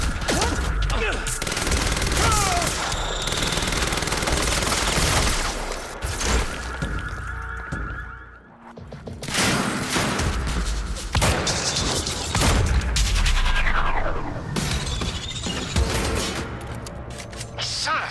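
Dense, sustained gunfire and heavy impacts from the video game Quantum Break: a loud, continuous barrage of shots with thuds and crashes that dips briefly midway, then surges again in an underground parking garage.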